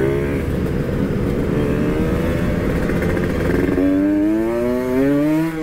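Bored-up Kawasaki Ninja RR motorcycle with an Uma Racing daily spec 65 build, ridden on the road: a loud, continuous engine note that holds steady, then climbs in pitch as it accelerates near the end.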